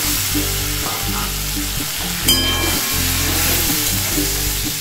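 Fried potato and pointed gourd pieces hit hot oil in a pan with dried red chillies. The result is a loud, steady sizzle with a faint hum underneath and a brief sharper crackle midway.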